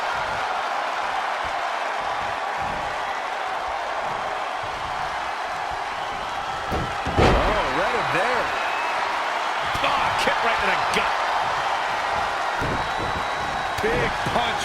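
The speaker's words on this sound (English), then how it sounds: "Swing neck breaker." A swinging neckbreaker slam in the WWE 2K20 wrestling game lands as a heavy thud midway, followed by a roaring arena crowd and a few further impacts, with commentators talking throughout.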